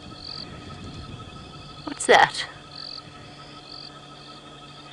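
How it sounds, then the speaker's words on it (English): Painted reed frogs, sand frogs and an olive toad call at night on a safari drive, their faint croaks steady in the background while a person briefly speaks over them. "You're hearing painted reed frogs, some sand frogs, and also I can hear the croak of one olive toad."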